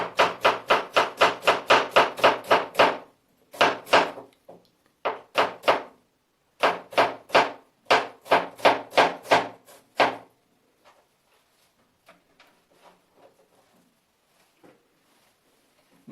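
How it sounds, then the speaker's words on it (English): A knife slicing onion finely in Indian style, heard as rapid, regular chopping strokes on a board in quick bursts with short pauses, close and crisp, then fading to a few faint taps. "Second cut is onion fine slice,"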